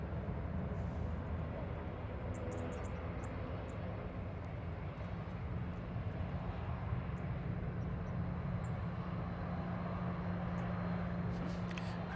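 A Ryanair Boeing 737-800 from Alicante lands on runway 05 right at Manchester Airport, a steady, fairly distant roar with a low hum, holding level throughout.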